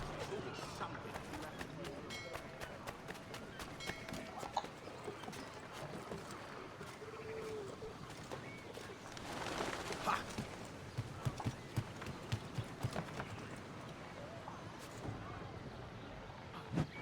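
Steady clip-clop of horse hooves at a walking pace in the video game Assassin's Creed III, with occasional sharper knocks and a brief mumbled voice in the middle.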